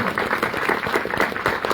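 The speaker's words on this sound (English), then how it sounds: "Give a round of applause for all the candidates." Audience at an Athens mayoral debate applauds the candidates, a steady, dense wash of many hands clapping that holds at an even level from start to finish.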